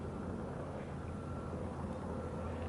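A noisy beach in Mississippi, where wind, passing cars and airplanes blend into a steady, unbroken roar, loud and constant throughout.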